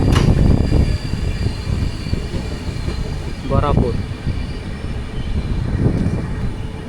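The Araku train rolls into Gorapur railway station, the last stop in Andhra Pradesh before the Odisha border, with a loud, steady rail rumble and a brief wheel squeal while someone speaks over it.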